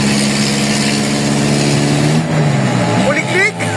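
Loud vehicle engine with a holed, double-leaking exhaust, a steady rumbling drone with strong low harmonics that holds throughout, shifting slightly near the end, with voices talking over it.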